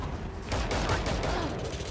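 Rapid gunfire from a revolver-style sidearm in the tactical shooter Valorant, a dense burst of loud shots over roughly a second and a half, with game ambience and a bit of voice mixed underneath.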